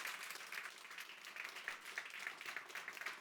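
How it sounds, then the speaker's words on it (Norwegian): Audience at an NTNU evening event on nuclear energy claps after a talk, a steady, fairly sparse patter of hands that sounds faint and distant. "Jeg synes vi skal klappe for, ja."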